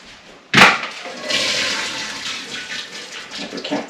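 Water gushes out of a pot into a sink as it is drained, starting with a sudden splash and then settling into a steady rushing flow with uneven spatters.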